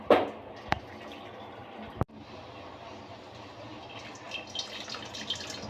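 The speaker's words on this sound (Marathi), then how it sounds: "आपण कटाच्या आमटीसाठी पाणी काढून घेऊया डाळीतलं" Cooking water being poured off boiled lentils (dal), a soft continuous liquid trickle and splash, close by, with a couple of sharp knocks of a vessel and livelier splashing toward the end.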